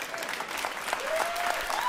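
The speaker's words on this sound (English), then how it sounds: "See, don't get mad. I'm clapping" A comedy show audience claps steadily, a dense continuous patter of many hands at moderate volume throughout the short stretch.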